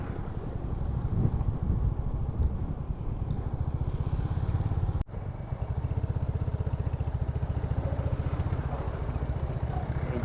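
Motorcycle ridden in second gear over a rough, broken road, engine droning steadily and loud up close with a rapid throbbing pulse, a brief dropout midway, no talk.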